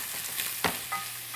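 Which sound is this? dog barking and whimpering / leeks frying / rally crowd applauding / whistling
leeks frying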